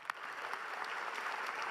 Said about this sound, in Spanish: mientras muchos aplaudían este momento